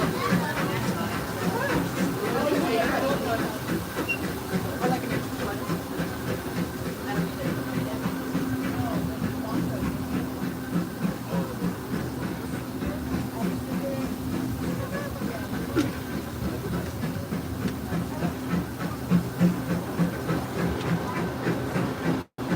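Disneyland Railroad steam train running on its Grand Circle tour loop through the park, a steady rolling rumble with faint hiss and clatter heard continuously under a recorded narrator's voice.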